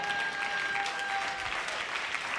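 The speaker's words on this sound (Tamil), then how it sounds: "கைத்தட்டுங்க பார்க்கலாம்." A church congregation claps together at a promise service, producing dense, steady applause that holds evenly throughout at moderate loudness, with no voices standing out.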